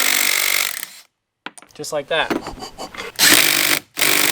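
An impact wrench loosens a sway bar end link on a Volkswagen Golf Alltrack, loud rattling bursts at the start and near the end with talk in between.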